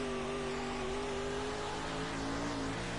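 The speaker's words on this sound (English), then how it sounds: "And you can hear the throttle." Race car engine in a racing video game holds a steady droning throttle, its pitch sliding slightly, alone with no talk over it.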